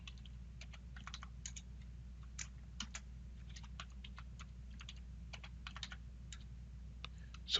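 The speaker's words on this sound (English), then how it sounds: "So I enter a passphrase for it." Keys clatter on a computer keyboard as a passphrase is typed in bursts of quick, light taps with short pauses, close and fairly quiet over a steady low hum.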